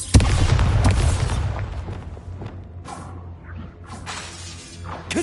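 A Bombarda spell blast in Hogwarts Legacy on PS5: a loud booming burst up front that rolls off into a lingering rumble, followed by quieter whooshing magical effects.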